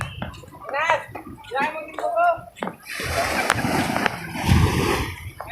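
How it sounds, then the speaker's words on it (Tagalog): Seawater rushes in during a typhoon storm surge. Someone talks excitedly at first, then loud splashing and sloshing water takes over nearby. "Pasok ng tubig dagat."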